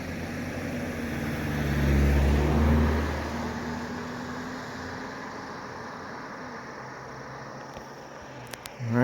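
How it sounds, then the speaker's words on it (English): Steady traffic rumble as cars cross a bridge in Vermont, swelling briefly as one draws near, then fading into a continuous road hum. "As you can see and probably hear, the cars still use this bridge"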